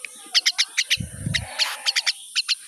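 A myna bird gives a run of sharp, repeated chirps while being hand-fed, close and clear, with a brief low rustle partway through.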